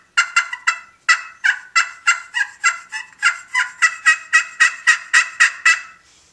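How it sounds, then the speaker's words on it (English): A wild turkey hen yelps in a long series of harsh, raspy calls, about twenty evenly spaced notes in quick bursts, loud and fairly close, with no talk. "the old hen started yelping, and she was giving some pretty harsh calls"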